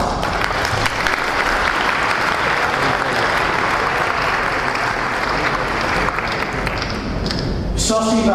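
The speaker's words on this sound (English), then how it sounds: "A big round of applause." A large crowd claps continuously and loudly, a dense, even wash of applause that holds steady throughout.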